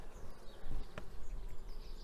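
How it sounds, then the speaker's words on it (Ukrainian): Restless honeybees in a queenless colony buzz steadily in an open hive during an inspection, a dense close-up drone of many wings with a few louder individual passes and no talking. "Бджілки е, махають крильцями"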